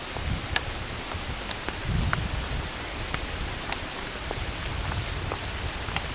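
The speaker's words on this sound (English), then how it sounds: "It is actually hailing, hence the sound has increased." Hail falls in a Kent woodland, a steady hiss of rain with scattered sharp ticks of hailstones striking the camera close by, no voices.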